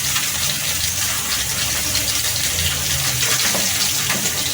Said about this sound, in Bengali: এটি আমি এখানে গরম জল আছে করা, এই গরম জল দিয়ে একটু ভিজিয়ে রেখে দেব।